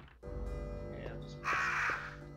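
Crows caw in the survival horror video game Resident Evil, loud harsh repeated calls over a low droning game ambience, with a louder burst near the end.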